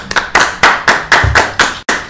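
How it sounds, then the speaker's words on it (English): Bursts of hand clapping in a talk-show studio, about seven sharp separate volleys of fairly loud applause from a small group, each breaking off briefly before the next. "Yeah, even Austin's clapping"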